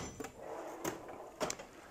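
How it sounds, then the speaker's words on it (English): A tool chest drawer being pulled open in a home workshop, heard as a few close wooden knocks and a short sliding rumble with no talking. "You pull out this drawer."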